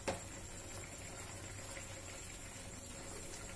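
Raw mango launji simmers in a pan, a faint, steady bubbling hiss with a small click at the start and no voices.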